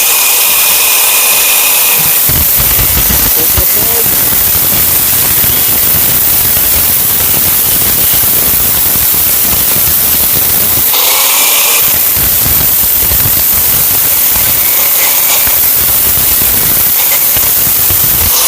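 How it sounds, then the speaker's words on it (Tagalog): An unguarded angle grinder cuts into a copper transformer, a loud continuous high-pitched whine and grinding roar that runs almost unbroken, with brief dips where the disc eases off. "So dahan-dahan lang ako kay walang guard yung grinder natin."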